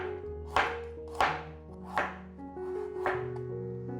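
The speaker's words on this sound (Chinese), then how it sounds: "把红萝卜切丝" A knife cuts a peeled carrot into strips on a cutting board, giving about five distinct, evenly spaced chops over soft background music.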